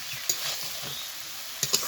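Fried vegetables and greens are stirred in a pan over a low, steady sizzle, with a few sharp spatula clicks against the metal. No voices.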